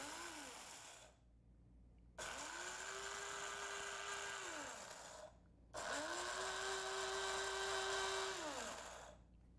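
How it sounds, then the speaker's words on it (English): An electric grinder whirs through spice seeds for pickling in three loud bursts of motor noise, each a few seconds long, with short gaps of quiet between them. "we're going to give these a little grind in here"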